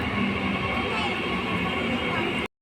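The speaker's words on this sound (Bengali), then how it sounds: "এই যে কলকাতার দিকে যাচ্ছে ট্রেন" A train bound for Kolkata rumbles past nearby in a steady, loud, continuous roar of rolling wheels and carriages, with faint voices beneath, ending abruptly.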